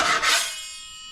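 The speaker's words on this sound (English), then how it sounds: "Gonna be scraping off everything" A putty knife scrapes dried joint compound off a finished drywall patch, one short, close, gritty rasp that fades out quickly.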